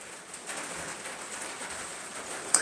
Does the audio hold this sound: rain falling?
yes